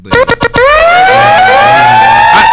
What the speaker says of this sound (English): Let me get the siren.